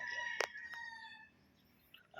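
A rooster crows on a gamefowl farm, a short harmonic call near the start, faint and somewhat distant, followed by quiet surroundings with another brief call near the end.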